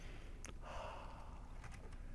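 A quiet, drawn-out deep breath, soft and airy, rises briefly and then trails off, faint and close against a low background hiss.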